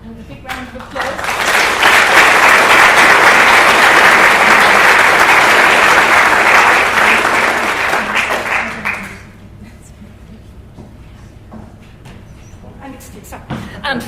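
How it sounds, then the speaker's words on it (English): Warm, full applause from a hall audience at a Seamus Heaney memorial evening congratulates a nominee named Lucy, swelling quickly and holding for several seconds before dying away into quiet room noise. "Congratulations, Lucy, and a big round of applause."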